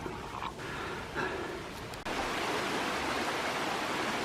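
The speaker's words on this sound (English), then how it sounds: "Nice little bench and little babbling stream next to the bench" A small babbling stream beside a bench on a countryside walk near Farfield, heard as steady broadband rushing water that grows louder and fuller partway through, close by with no talk.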